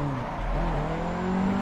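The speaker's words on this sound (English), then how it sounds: "a little clutch kick there" A drift car in the Assetto Corsa racing game revs hard after a clutch kick, its engine droning loud and steady while the tires squeal in a sustained slide, with no voices.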